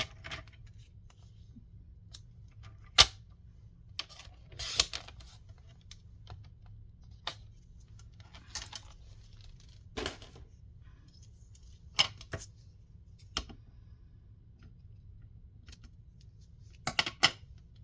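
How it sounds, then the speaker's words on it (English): Scissors cut paper in a straight line, producing sparse sharp snips and crisp clicks scattered irregularly over a quiet background hum, with no talking. "I'm going to cut a straight line"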